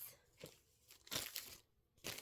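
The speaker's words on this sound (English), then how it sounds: "This is a plastic bag." A plastic bag crinkles and crunches as it is pulled from a drawer, with several bursts of crisp rustling close by and no talking.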